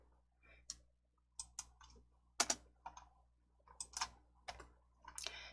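Keys on a computer keyboard are typed in short irregular bursts of crisp clicks, close and quiet, with pauses between groups of strokes and no talking.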